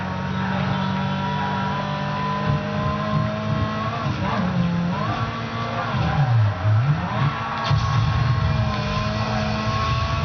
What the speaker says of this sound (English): I love taking these cars to its red line, especially when you floor it